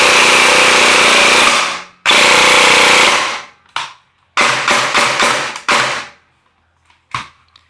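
Phantom PDW CQB airsoft AK rifle firing loud full-auto bursts: two long sustained strings, then several short bursts and a few brief stabs, with abrupt gaps between them.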